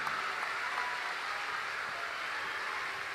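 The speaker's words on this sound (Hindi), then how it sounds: "जोरदार ताली बजा के हमारे भंडारी जी को धन्यवाद दो।" Loud, steady applause from a large crowd at a Bageshwar Dham religious discourse gathering, a dense continuous roar of clapping lasting throughout with no break.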